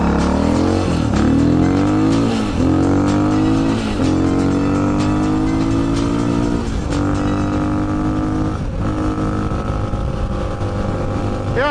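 A 2004 Honda XR400R motorcycle accelerates hard on the road, its loud, close engine climbing in pitch through several gear shifts, with steady wind rush throughout.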